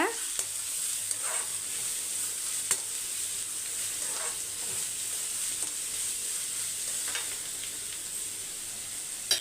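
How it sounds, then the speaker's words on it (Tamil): Chopped onions fry in a pan with a steady, soft sizzle while being stirred now and then, with faint scraping knocks scattered through the continuous hiss. "வெங்காயம் வந்து வதங்கட்டும்"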